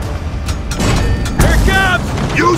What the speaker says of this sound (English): Launch the bombs toward the turret!